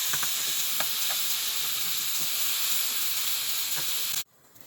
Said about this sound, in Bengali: ফুলকপি আলু ভাজা হয়ে গেছে